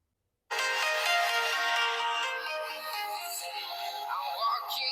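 A music sample plays through the stereo speakers of an Infinix Smart 10 phone, starting abruptly after a brief silence and continuing steadily at moderate level with no talking.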